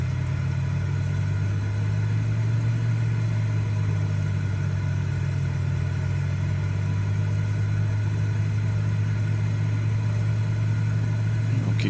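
A Cessna 206H single-engine piston aircraft drones steadily in climb within a flight simulator, its engine holding a constant, loud, low hum with no breaks or change in pitch.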